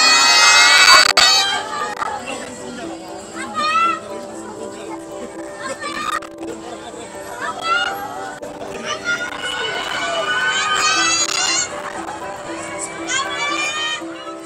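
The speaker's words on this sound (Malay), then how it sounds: "beliau disambut meriah para penyokong dengan sorakan Abah, Abah, Abah" Supporters of Indonesian presidential candidate Anies cheer and shout at his arrival, a lively crowd of excited voices and children's cries rising in bursts, with chatter running underneath throughout.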